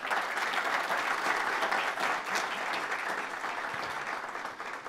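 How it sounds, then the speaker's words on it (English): Sustained applause from an audience at a small-business pitch competition final, a dense, steady crowd clapping that fills the whole stretch and eases slightly toward the end. "Big round of applause for Chris."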